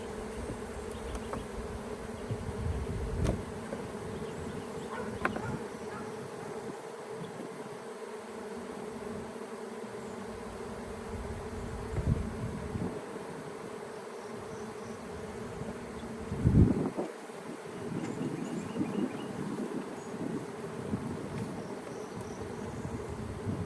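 Honeybees buzzing around an open hive during a swarm cell check, a dense steady drone with occasional louder passes of individual bees near the listener and faint handling bumps.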